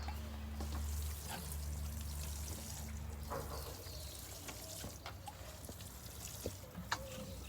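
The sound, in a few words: pouring water onto seedling plants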